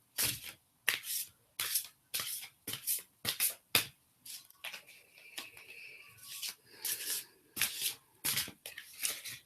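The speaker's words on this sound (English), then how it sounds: "if you just shuffle the cards" A deck of tarot cards shuffled by hand, giving repeated crisp riffling bursts in a steady rhythm, close and fairly quiet, with no one talking.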